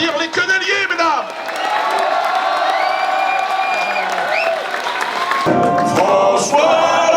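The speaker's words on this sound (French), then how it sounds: "demande d'applaudir les queneliers" At the 2014 Bal des quenelles, a crowd cheers loudly for the quenelle award recipients, with shouts, whoops and voices over scattered clapping, continuous and close for about seven seconds.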